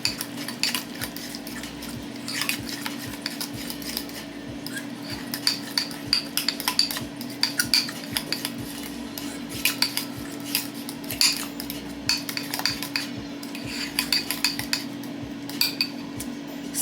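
A utensil stirring Greek yogurt sauce in a bowl, with repeated clinking and scraping of metal against the dish in an irregular rhythm, close and clear over a low steady hum, with no talking.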